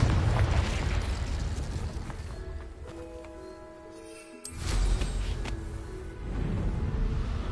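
Confringo fire-blast spell exploding in Hogwarts Legacy, a loud roaring burst with rumbling debris that fades, then another swelling blast, game sound with no talk.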